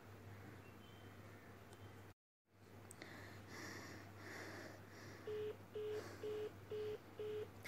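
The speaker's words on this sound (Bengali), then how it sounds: "সে ছুটে গিয়ে পাশের ঘরের টেবিল থেকে মুঠোফোনটি নিয়ে শৈবালের ফোনে কল দিল।" Mobile phone being dialed as a sound effect in a Bengali audio story: a low hum, a brief dropout, then a run of five evenly spaced short dial tones, close and fairly quiet.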